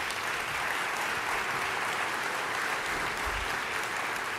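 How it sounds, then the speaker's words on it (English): Audience at a faculty and staff convocation applauding steadily, a dense sustained clapping that fills the whole moment with no voices on top. "Let's give them a round of applause for that."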